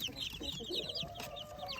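Young Leghorn laying hens clucking softly alongside high, rapid peeping from chicks, a quiet and busy coop sound.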